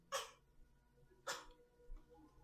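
Two short, sharp sneezes about a second apart, close and fairly quiet in a still room, followed by a faint breath.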